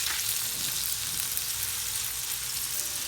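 Chopped steaks sear in a hot pan, giving off a dense, even sizzle and crackle that stays loud and close for the whole moment, with no voices.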